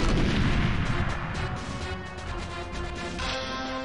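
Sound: explosion, blowing it up in GoldenEye 007 video game

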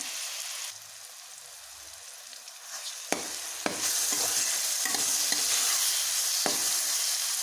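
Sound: bananas frying and being stirred in oil in a pan

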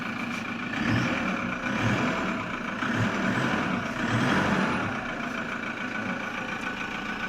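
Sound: engine of a 2008 Toyota Hilux Vigo pickup truck

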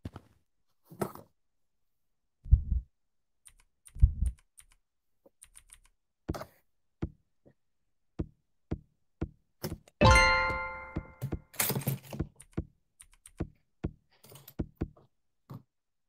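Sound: computer keyboard being typed on and hit

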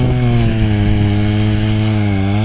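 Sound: chainsaw cutting holes in ice for fish

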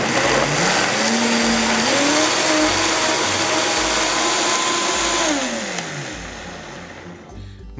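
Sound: blender blending hot sauce with apple cider vinegar

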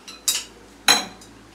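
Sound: washing dishes, utensils clinking

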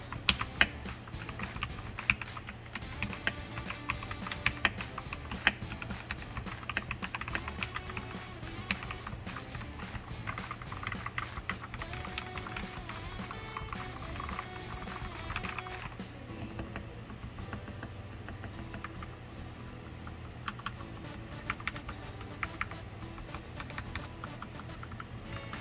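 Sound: typing on modded RK mechanical keyboard

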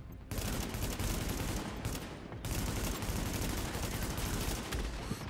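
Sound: gunfire in video game The Division

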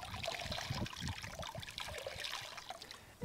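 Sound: water rinsing hydrochloric acid off skin

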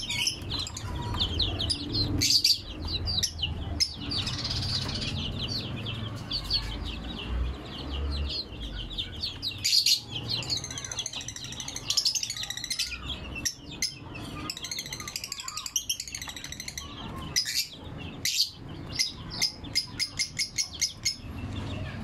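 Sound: birds chirping outdoors

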